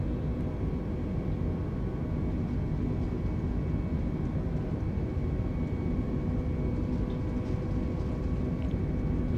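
A320neo engines run at takeoff thrust in Microsoft Flight Simulator 2020 on departure from Leeds Bradford, giving a steady, dense low roar that stays even throughout with no talk.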